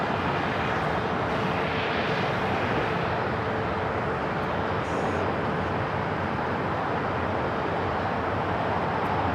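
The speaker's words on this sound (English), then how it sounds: "Spirits and a 1-year-old A320 Neo heading to Atlanta, flight 836 up next for takeoff here on the south side" A Spirit Airbus A320neo roars down the south-side runway at LAX on takeoff, a loud, continuous broadband jet rumble that holds steady throughout.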